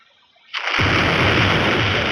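A bomb goes off in the Roblox game Brookhaven, a sudden loud blast that bursts from near silence and rolls into a sustained, roaring rumble with no voices over it.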